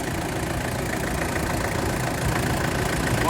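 A Mitsubishi Pajero engine idles steadily with a dense, even rumble and no break or change in pace, heard close and alone without any voices.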